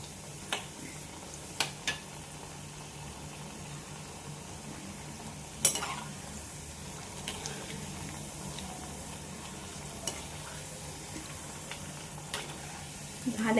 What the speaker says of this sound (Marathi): आपण मध्यम आचेवरतीच भजी तळायची आहे